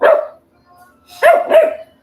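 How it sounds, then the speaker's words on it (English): A dog barks at its bed indoors: one sharp bark, a short pause with a faint whine, then two more close, loud barks in quick succession. "Why are you barking at your bed, dude?"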